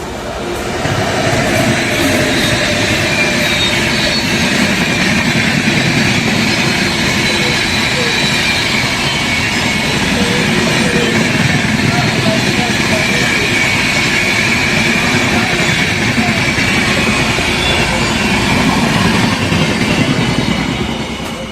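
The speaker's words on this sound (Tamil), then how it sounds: "செம ஸ்பீடில் வருதுங்க ட்ரெயின்." A passenger train, hauled by WAP 7 electric locomotives on an Indian line, passes at high speed. It makes a loud, sustained roar with continuous wheel rumble and clatter that holds steady throughout at close range.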